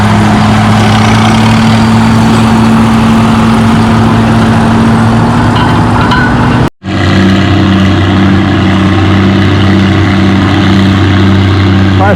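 An Oliver Super 77 tractor drags a 4,000-pound sled at a spring tractor pull on rain-soaked clay, its engine a loud, close, sustained roar that cuts out for an instant midway, then resumes with a throbbing beat.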